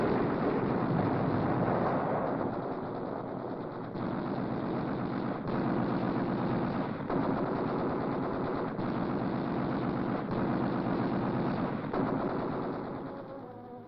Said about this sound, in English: a torrent of gunfire is turned on the crippled sub